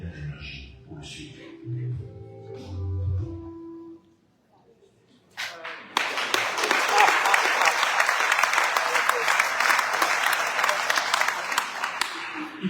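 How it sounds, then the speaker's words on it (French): Sustained applause from the audience at a public meeting on a high-voltage power line project in Arles, a dense steady clapping that starts abruptly after quieter talk and holds loud and even for several seconds. "Il faut applaudir"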